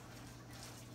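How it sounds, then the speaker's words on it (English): Filling for old-school stuffed bell peppers, made with onions, celery, bell peppers and breadcrumbs, gets stirred in a bowl with a spoon. A short, steady scraping and rustle sounds close by, with a slight knock near the end and no talk. "Mix this with a spoon here."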